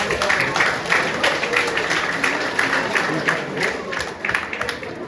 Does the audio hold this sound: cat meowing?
no